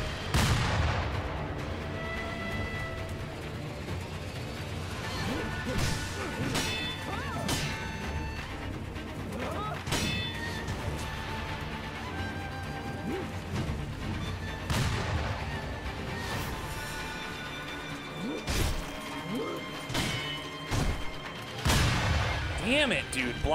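Repeated sharp cracks and metallic clashes of sword combat in Sekiro, including a gunshot blocked during a boss fight, punctuate steady game noise, with loud impacts at irregular intervals throughout.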